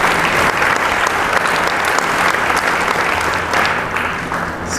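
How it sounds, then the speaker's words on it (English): A large audience at an evening ceremony honoring about 205 students applauds steadily and loudly for the full stretch, a dense, sustained wash of clapping that only eases slightly near the end. "Let's give them a round of applause."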